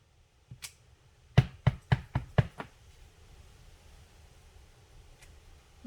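A short series of rapid knocks comes as a rubber stamp is pressed repeatedly onto card to print flowers, about six close taps in quick succession, then quiet.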